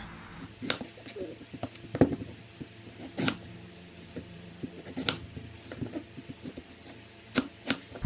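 A knife chops through mango on a board, a series of sharp irregular cuts with pauses between them and soft background noise.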